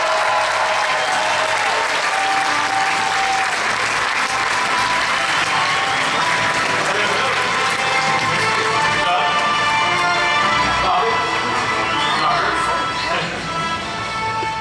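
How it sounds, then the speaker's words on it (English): A theater audience gives a sustained round of applause welcoming the Imagineering team behind Star Wars Galaxy's Edge, a dense, even roar of clapping that thins slightly near the end. "Give a round of applause."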